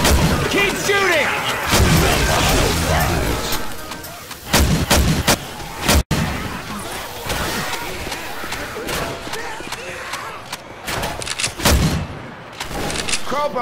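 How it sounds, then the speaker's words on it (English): Heavy, dense gunfire in Left 4 Dead 2 during a zombie fight, with rapid bursts and loud booming shots in irregular clusters. Crowd noise and shouting voices sit underneath the firing throughout. "Keep shooting."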